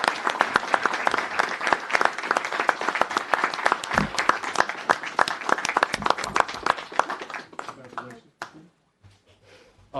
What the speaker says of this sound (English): So if I get a round of applause for Ann and Christina.